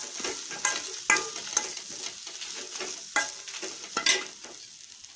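Byadagi and nati chillies with grated coconut are heated in a pan for ginger chutney, giving a soft, faint sizzle punctuated by irregular scraping stirs, with no voices.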